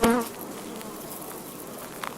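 Honey bees from a farm hive of about 60,000 workers make a steady, dense buzz, with a louder burst close by at the start before it settles into an even hum.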